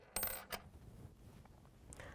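A fifty halala coin, the Saudi half-riyal piece, drops with a sharp metallic clink followed by a second lighter ping, then settles into near silence.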